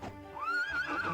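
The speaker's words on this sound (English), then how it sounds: "That horse... horse got very angry with me." In the video game My Time at Portia, a horse gives a single rising, drawn-out whinny, fairly close and clear over a low background.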